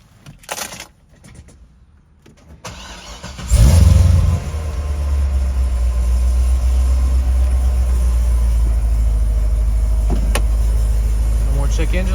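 A low-mileage Corvette C6 ZR1 with a newly installed performance clutch cranks and fires up, then settles into a loud, deep, steady idle close by.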